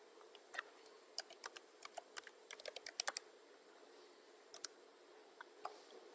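Keys on a computer keyboard are pressed as a password is entered, a quick run of crisp, close clicks followed by a pause and a few more isolated taps against quiet room hiss.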